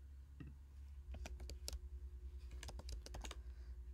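Computer keyboard being typed on at a desk, giving quick bursts of close, crisp key clicks in uneven rhythm over a low steady hum, with no voices.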